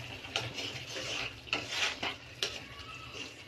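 Ground spices — salt, cumin, turmeric and Kashmiri chilli powder — stirred and scraped in a pan, with several sharp utensil scrapes and clinks over a low background hum, close and moderately loud, no talking.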